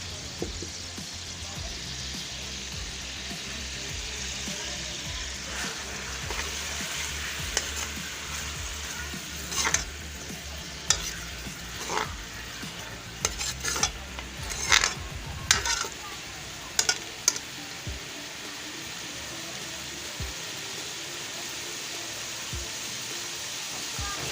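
Onions and ginger-garlic paste fry in hot ghee for a kaleji and potato dish, a steady sizzle with clinks of a spoon stirring against the pan.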